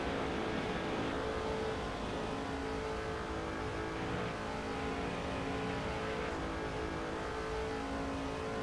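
Race car engine in the NASCAR 06 video game, held at high steady revs through a 2005 Budweiser Shootout race, a continuous loud drone with no talk over it.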